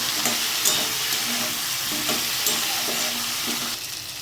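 Spice masala with chopped tomato, turmeric, salt and torn bay leaves stir-fries in oil, a loud close sizzle with rhythmic scraping strokes every half second or so, easing slightly at the end; no talking.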